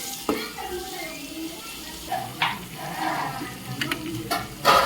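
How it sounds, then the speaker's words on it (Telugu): Tomatoes and green chillies fry in a pan with a low sizzle, broken by several sharp scraping stirs and clatters, plus a faint watery background. "టమాటాలు, పచ్చిమిరకాయలు ఫ్రై చేద్దాం"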